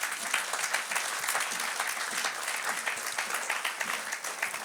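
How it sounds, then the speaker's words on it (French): Church congregation at an online Easter service applauding and cheering loudly and steadily, a dense wash of clapping with no talk over it. "Acclamons très très fort le Seigneur."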